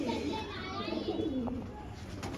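Pigeons coo on a rooftop, a soft low murmur running steadily under a constant bed of outdoor noise, with a voice and children faintly audible in the background.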